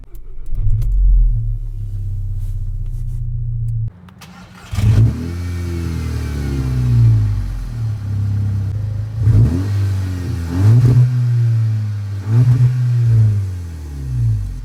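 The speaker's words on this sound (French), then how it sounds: "Quand vous démarrez la voiture, donc ça se passe comme ça." A Volkswagen Golf 6 GTI tuned to Stage 1 on ethanol turns over and starts, then settles into a rumbling idle broken by several sharp revs that rise and fall, loud and close.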